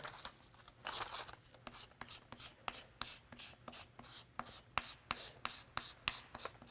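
Chalk scrapes and rubs on a sidewalk in quick, gritty strokes, soft and close, in an irregular rhythm.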